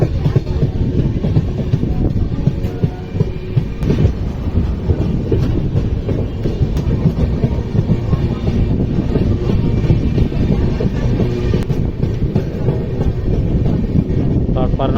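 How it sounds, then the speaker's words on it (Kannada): Janshatabdi Express train number 12080 pulls into Harihar station, with a loud, continuous rumble and rhythmic clickety-clack of wheels throughout, plus some wind buffeting and faint voices. "ಬರ್ರಿ, ಟ್ರೈನ್ ಈಗ ಹರಿಹರಕ್ಕೆ ಬಂತ."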